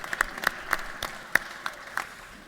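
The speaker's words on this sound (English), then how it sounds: "we'll clap for that one" Sparse, scattered clapping from a small audience at a speech, about half a dozen distinct claps spread over a couple of seconds rather than a full ovation, heard fairly close with a soft room background.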